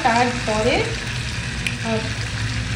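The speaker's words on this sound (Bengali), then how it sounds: "মশলাটা যখন ভালোভাবে রেডি হয়েছে তারপরেই কিন্তু আমি চিকেনটা এখানে মিক্স করছি। এটা হতে থাক বেশ কিছুক্ষণ, এখন একটু কষাই" Chicken pieces being stirred into spiced masala and fried for chicken kosha, a steady close sizzle with stirring scrapes throughout.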